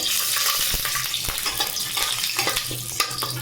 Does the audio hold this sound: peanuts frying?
yes